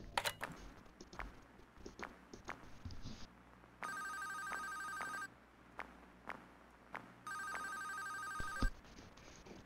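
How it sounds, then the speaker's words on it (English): Telephone ringing in a Five Nights at Freddy's fan video game: two sustained ringing bursts sound over quiet background clicks, thumps and ambient hum, with no talking. "You guys can hear the phone call."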